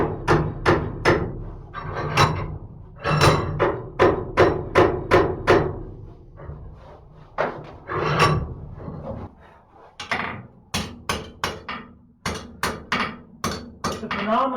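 Hot steel gripped in a vise and hammered to upset it while forging box jaw tongs, a long run of loud close ringing hammer blows in quick bursts with brief pauses between.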